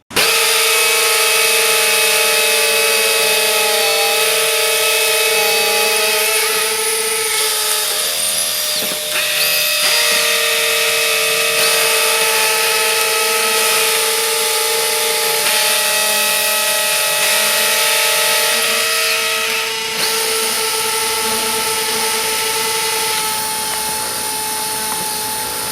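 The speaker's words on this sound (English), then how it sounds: "We'll drill 3 holes each with this 5mm bit." A DeWalt 18V cordless hammer drill with a 5mm bit whines loud and close at high speed, its pitch shifting slightly as it bores three holes one after another without pause.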